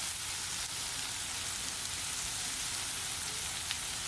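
Ginger, garlic and onion paste fries in hot oil for a salted hilsa curry, giving a steady, dense sizzle with faint crackles, close and continuous with no talking.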